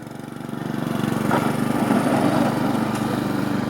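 A riding lawnmower engine runs steadily and close, with a constant throbbing drone that swells slightly at first and then holds level.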